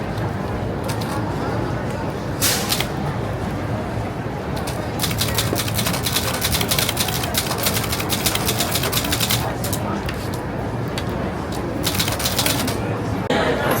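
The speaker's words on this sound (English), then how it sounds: "they have their little typewriters over there, and they type up their poems" Several little typewriters clack away as people type up poems, sharp irregular keystrokes and carriage sounds scattered through a steady crowded background, with people talking throughout.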